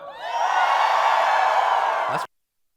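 A large audience cheers and whoops together as if celebrating a win, a loud sustained roar of voices with yells rising over it that holds steady for about two seconds and then cuts off abruptly.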